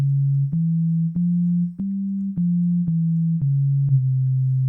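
Synthesizer holding a clean, steady low sine tone, close and alone, with slight pitch steps and a faint click at each step roughly every half second.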